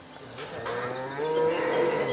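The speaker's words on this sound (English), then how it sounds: "The healthy cow is off back out to pasture after donating her life-saving blood." A healthy dairy cow moos loudly and close by, a long low bellow swelling in the second half, with farm background noise and no talking.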